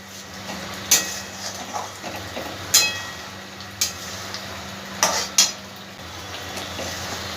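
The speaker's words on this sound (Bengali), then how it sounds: "আরও আমি 2-3 মিনিটের মতন একটু ভেজে নেব।" Chicken khira cooking in a pan, with a quiet steady sizzle of frying under intermittent metallic clinks and scrapes as a utensil stirs it.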